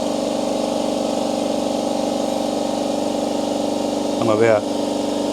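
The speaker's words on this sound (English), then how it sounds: "150 millimeters away from the compressor heads. 90, 91 decibels." A Chicago Air Hush 150 air compressor runs steadily at close range near its compressor heads, a constant droning hum with a brief voice speaking over it near the end.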